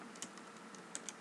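Quiet keystrokes on a computer keyboard as Python code is typed, with a few soft, separate clicks spaced irregularly over a faint background hum.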